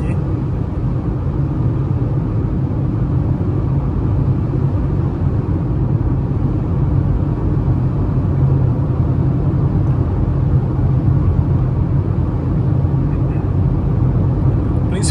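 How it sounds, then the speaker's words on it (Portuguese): A steady, loud broadband roar of wind and road rumble fills the cabin of a 2023 Citroën C3 Live Pack 1.0 on the highway, unbroken throughout with no voices. "Que vocês escutam aqui é barulho de vento"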